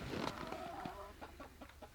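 Chickens on a small farm cluck faintly in a short run of soft, quick calls, fairly distant and low in level, with no talking over them.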